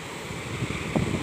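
Strong typhoon wind roars over a rough sea with big waves, a steady wash of noise with a louder gust and surge near the end.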